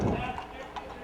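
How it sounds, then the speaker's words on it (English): Horse hooves clip-clop along a parade route at an Italian picnic, ridden by a roundup queen; the steady hoofbeats sit under loud, continuous talk throughout the short moment. "There's a beautiful young lady on the horse."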